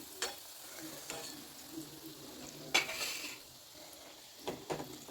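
Sweet dough balls deep-frying in oil over moderate heat, a faint steady sizzle with occasional clinks and stirring knocks of a utensil against the pan.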